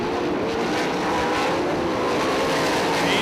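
410 sprint cars racing at 34 Raceway, a loud, steady engine roar that fills the whole stretch with a slight rise toward the end as cars pass close.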